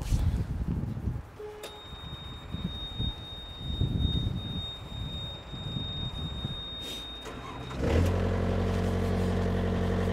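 A 4-ton truck from a Japanese auction cranks with rough, uneven churning, then its engine catches near the end and settles into a loud, steady running drone at close range, with no talk.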